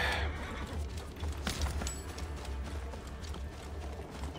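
A horse in the video game Assassin's Creed Origins, with hoof clip-clops and a brief whinny amid game ambience, moderately close and fairly quiet.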